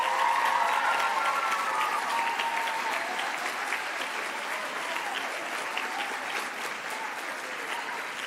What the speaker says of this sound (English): Creative writers, please face the audience for a round of applause.